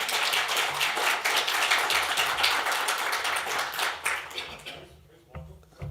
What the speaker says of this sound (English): I can feel you all wanting to applaud